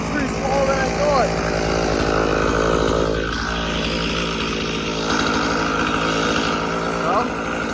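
A chainsaw cuts through a log along the curve of the tree, its motor snarling and revving in rough waves over the whole stretch, with a voice speaking over it.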